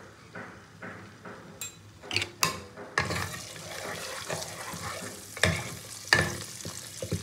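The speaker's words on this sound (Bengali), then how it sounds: "তেলের মধ্যে আলুগুলো দিয়ে একটু আলুগুলো হালকা করে ভেজে নেব" Potatoes fry lightly in hot oil in a kadai with a soft, close sizzle, broken by several sharp clinks and scrapes from stirring.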